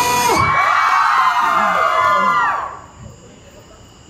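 A show audience, many of them children, shouts and whoops in one loud, sustained burst that fades after a few seconds into quieter murmuring.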